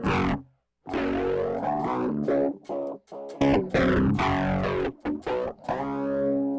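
Heavily processed electric guitar notes through a Raspberry Pi effects pedalboard's helicopter pitch-vibrato effect warble and bend in pitch with a wobbling vibrato, played in loud bursts with brief gaps between phrases.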